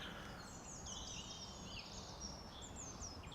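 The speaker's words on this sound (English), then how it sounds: "can you hear that bird song? I hope you can." Birds sing outdoors around an ancient oak tree in a park in a steady chorus of high chirps and trills over a soft wash of background noise.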